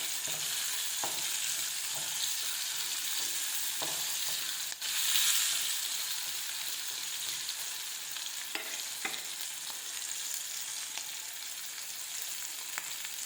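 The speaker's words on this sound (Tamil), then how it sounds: "வெங்காயமும் பூண்டும் நல்லா பொன்னிறமாக வதங்கி வந்துடுச்சு" Onion and garlic frying steadily in a pan for an okra curry, a continuous close sizzle with occasional stirring scrapes and clinks, no voices.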